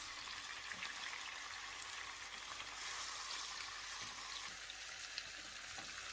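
Pumpkin sautéing in a pan gives off a steady, faint, broadband sizzle with light crackles, continuous and alone without any talk.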